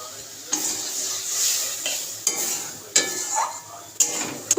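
Egg curry masala is stirred in a hot pan, with sharp metal scrapes every second or so over a soft sizzle, and no voices.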